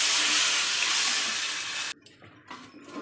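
Tamarind water is poured into a hot pan while making prawn kuzhambu, giving a loud, steady gushing rush for about two seconds before it cuts off into a faint sizzle and small bubbling.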